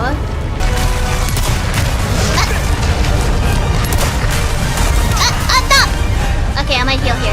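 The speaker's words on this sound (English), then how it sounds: "give me another rocket launcher! Alright, let's shoot and dodge" Rocket launcher fire and heavy explosions in a Resident Evil survival horror game, dense booms and crashes filling the scene while a player talks excitedly over the action.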